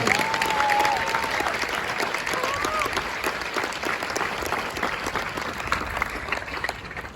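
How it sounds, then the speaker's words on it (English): Sustained applause from a crowd at a US Marine Corps graduation ceremony, a dense even roar of clapping that holds steady throughout, with a few faint voices and whistles mixed in. "please join me in a big round of applause for the families of Xsaives Pacheco"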